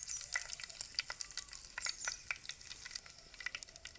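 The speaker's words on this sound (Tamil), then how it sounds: "கடுகு பொரிஞ்சிச்சுங்க. கருவேப்பிலை போட்டாச்சு." Mustard seeds and curry leaves sizzling and popping in hot oil, a steady faint crackle with scattered sharp pops, close up and without talk.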